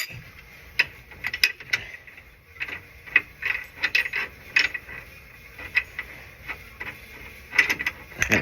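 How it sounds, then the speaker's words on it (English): A wrench loosening a bolt on a Jeep during a trail repair, giving close, repeated ratcheting clicks in irregular bursts. "I just hold it so it doesn't fall on my face, and I just loosen it up"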